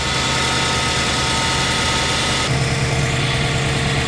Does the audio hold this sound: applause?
no